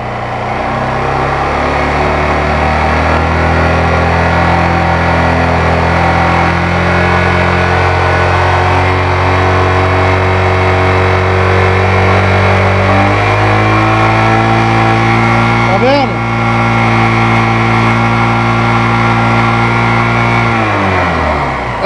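A Honda CG 125 Fan motorcycle engine runs steadily above 4000 RPM during a battery charging test for an electrical fault, a loud continuous close-up drone with a brief dip in pitch partway through, no talk.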